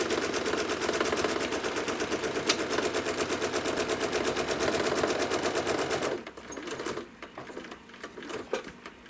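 Quilting sewing machine stitching in the ditch of a quilt, a fast rapid-fire mechanical needle rattle running steadily for about six seconds, then stopping, leaving quieter handling noise and scattered clicks.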